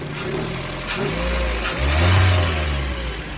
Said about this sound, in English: the car is idling very good now